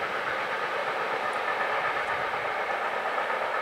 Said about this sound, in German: Und der nächste gemischte Güterzug